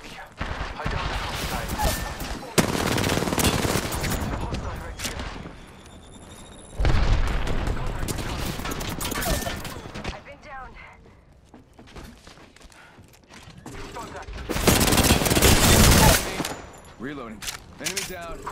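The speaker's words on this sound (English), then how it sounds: "Shots fired at me." Video game combat gunfire and blasts come in loud, dense bursts separated by quieter gaps, with a player's voice talking over parts of the action.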